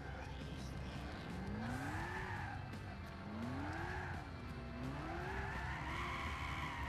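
Tires squealing through a drift in a 1965 Shelby GT350 drift build in Gran Turismo 6, a wavering, pitch-swinging screech over a steady engine drone, moderately quiet throughout.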